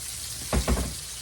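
Crusted steak frying in a pan over lowered heat, a soft steady sizzle with two short louder bursts of spatter or movement near the middle, no talking.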